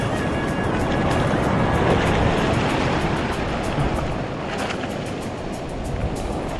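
Waves break on a reef in a continuous loud roar of surf and rushing water, with wind buffeting the microphone throughout.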